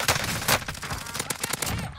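Dense automatic gunfire from Call of Duty Cold War Warzone, with sharp shots in a rapid irregular rhythm and loud bursts throughout. A voice briefly speaks under the firing.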